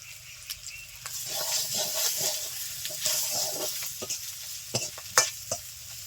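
Water goes into a pan of river fish curry with ginger, green chilli, turmeric and salt, setting off a splashing sizzle. Stirring clatters and knocks through it, and a few sharper taps come toward the end.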